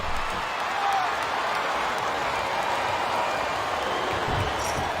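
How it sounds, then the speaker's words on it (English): A wrestling arena crowd reacts during a Ric Flair vs Triple H steel cage match at Taboo Tuesday 2005 in the game SmackDown vs Raw: a steady, loud roar of many voices with scattered clapping runs throughout without letting up. "Sounds like this crowd's got something on their minds, King."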